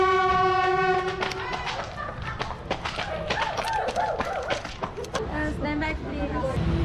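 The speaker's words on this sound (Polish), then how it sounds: "Tam już z daleka słychać odgłosy pociągu" A train rolls through the narrow Train Street in Hanoi, Vietnam, opening with a loud horn blast and followed by rumbling, clattering wheels, while voices talk nearby.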